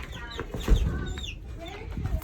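Chickens clucking on a farm, several close, overlapping clucks and chirps in an irregular rhythm with some background rustle.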